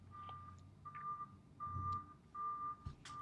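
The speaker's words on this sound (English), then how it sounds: "there is a backhoe backing up outside my office again" Backhoe backing up outside an office, sounding a series of evenly spaced electronic reversing beeps, faint and distant, with low machinery rumble beneath.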